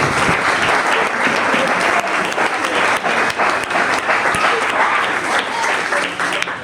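Dense, sustained applause from an audience at a skills-training session, loud and even throughout without any clear break.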